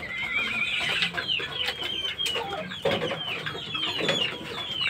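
Chickens cluck and chatter close by on a farm, mostly during moulting season, in irregular bursts of short calls with some higher squawks, with no voices over them.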